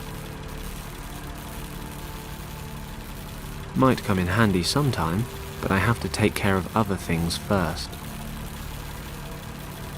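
Diesel generators run inside a shed in a video game, a steady low engine hum that holds throughout while someone talks over it in the middle.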